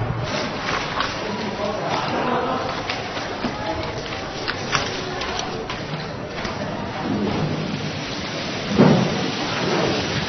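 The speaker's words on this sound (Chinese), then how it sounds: "真下雨了" Steady rain falls as a thunderstorm begins, a continuous hiss with a low rumble near the end, while people talk over it.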